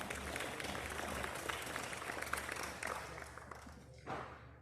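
An audience at a youth livestock show applauds the young exhibitors, a soft, distant wash of clapping that holds steady and then fades away near the end.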